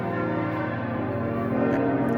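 Catholic church bells ringing in a town, a dense, sustained peal of overlapping tolls with rich ringing overtones, loud and steady throughout with no voices.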